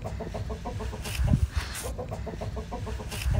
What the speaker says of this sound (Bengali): আর এই দেখো আমাদের মোরগ আর মুরগি